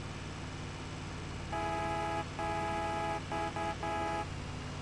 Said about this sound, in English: The tiny truck has the best horn in Farm Sim.